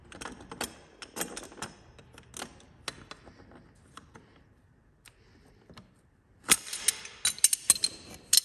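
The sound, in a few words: ratchet wrench tightening bicycle bottom bracket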